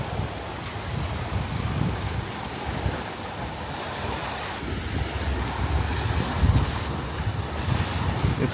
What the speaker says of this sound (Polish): Ale na szczęście wieje mocny wiatr.